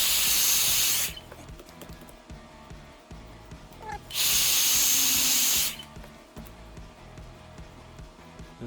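Heat gun hissing over vinyl wrap on a BMW E46 marker light, two loud steady bursts of rushing air separated by a quieter gap with light handling sounds.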